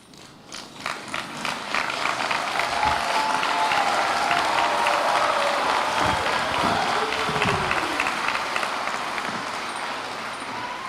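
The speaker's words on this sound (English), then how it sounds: "please stand to applaud Ms. Stewart and Ms. Hooten" Graduation ceremony audience on its feet applauding two staff members, a dense, sustained wave of clapping that swells within the first two seconds and holds steady, with faint crowd voices mixed in.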